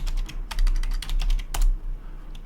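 Rapid bursts of computer keyboard typing, close and clear, come in short clusters of keystrokes with brief pauses between them while a file is renamed.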